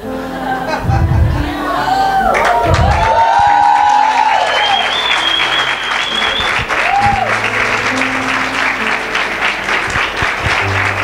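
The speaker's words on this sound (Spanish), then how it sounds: "Ese aplauso no es para mí, si es para Dios tiene que ser grande" Congregation applause during an evangelical church service, loud sustained clapping from a large crowd with voices and shouts mixed in, a sung or called tone rising over it, building and holding steady throughout.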